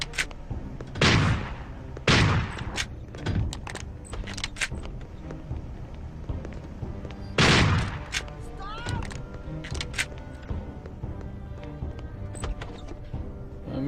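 A sawn-off shotgun booms in Hitman 2: Silent Assassin, giving several loud, spaced blasts with long decaying tails, interspersed with lighter clicks and clatter as a voice talks.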